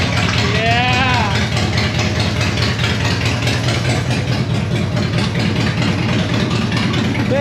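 A Harley-Davidson Dyna motorcycle engine idles with a loud, steady, throbbing low rumble, close by, with a brief high chirp early on and faint voices underneath.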